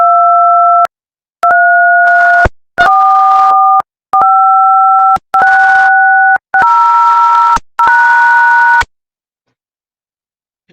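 Synthesized telephone keypad dialing tones (DTMF) built in GeoGebra from sums of two sine waves: seven loud, clean dual-pitch beeps of about a second each, separated by short gaps, then silence.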